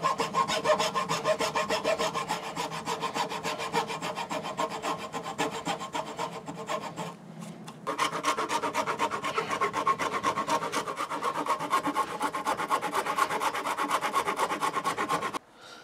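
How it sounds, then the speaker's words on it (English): A fine-toothed hacksaw cuts through wood to shape a shillelagh, with fast rhythmic rasping strokes up close, a brief pause partway through, then steady sawing again. "So I'm using a hacksaw because this seems to cut better with finer teeth."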